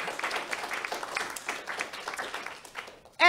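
Applause from an audience after a wind band (harmonie) concert performance, steady dense clapping that fades toward the end before a sudden loud burst cuts in.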